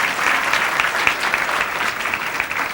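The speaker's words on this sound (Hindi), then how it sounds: "ताली बजाओ दिल्ली के नाम से।" A satsang audience in a hall claps together in a continuous, even burst of applause lasting just under three seconds.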